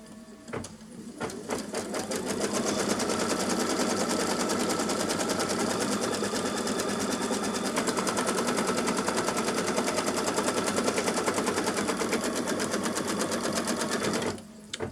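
A sewing machine stitching a fabric scrap in place runs in one long, steady, rapid rattle for about twelve seconds, close and clear, with brief clicks at the start and finish.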